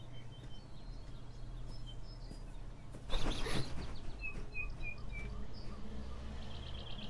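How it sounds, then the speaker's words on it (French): Birds chirping in the ambience of the video game Beyond Eyes: scattered short tweets and calls over a steady low background hum, with a brief louder rustling burst midway. "Les oiseaux."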